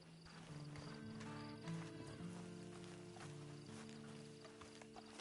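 Horse hooves clip-clopping with a neigh in Red Dead Redemption II, faint and set under sustained tonal game music and ambience.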